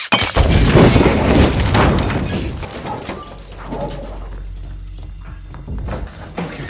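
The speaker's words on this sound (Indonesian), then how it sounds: "bom itu pun meledak" A bomb explodes inside an office in an action film: a loud, sudden blast with shattering debris up front, then a lower rumbling tail that slowly settles and fades.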